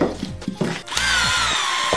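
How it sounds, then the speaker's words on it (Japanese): A small 3.6 V battery hand drill whirs steadily as it drives a screw into wood, its motor straining, after a few short bursts and knocks. "これハンドドリルでやってるからね。"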